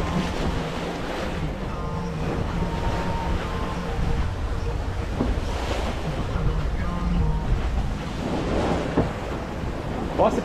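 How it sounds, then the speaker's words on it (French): Sea waves wash and surge while wind roars steadily around a sailboat on a Mediterranean crossing back toward Leucate. The loud, continuous water and wind noise carries faint tonal hums from the boat, with no speech. "Le vent n'a pas forcément faibli, mais la mer est beaucoup moins forte."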